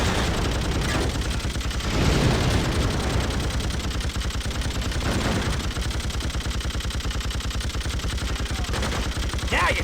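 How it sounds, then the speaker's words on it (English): An emplaced machine gun in the video game Freedom Fighters fires long, rapid sustained bursts, loud and close, with a few heavier blasts mixed into the steady rattle. "The emplaced machine gun is very powerful and will quickly kill the majority of enemies in this game"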